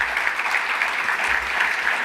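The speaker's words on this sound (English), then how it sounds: "Let's give them a round of applause," Steady audience applause for students at an industry awards gala, a dense continuous wash of clapping from a large crowd, loud and even throughout.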